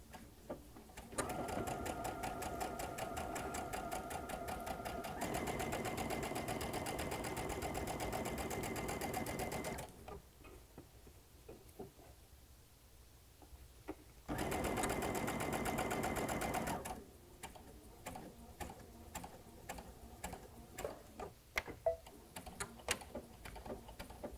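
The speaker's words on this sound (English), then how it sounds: "start stitching right at the corner, right where we stopped stitching on that previous seam line" A sewing machine stitches a quilt border seam, running steadily and loudly for several seconds, pausing briefly, then starting again in a short burst before tapering into scattered clicks and handling noises.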